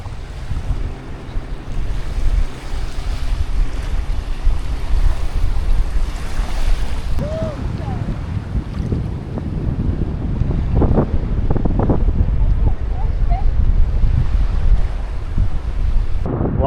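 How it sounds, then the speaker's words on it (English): Surf washes steadily onto Whitehaven Beach in the Whitsundays under heavy wind buffeting the microphone, a broad continuous roar with occasional brighter splashes. "look at this beach. It's absolutely stunning, man."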